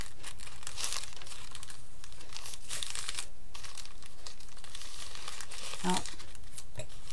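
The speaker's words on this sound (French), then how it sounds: "Un petit paquet qu'on va ouvrir." A small paper-wrapped package being opened, with bursts of paper crinkling and a little tearing over a steady background hiss, and a person speaking now and then.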